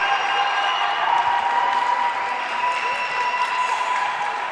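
A volleyball championship crowd claps and cheers steadily, a dense, continuous wash of applause from a gym full of spectators, loud and unbroken throughout.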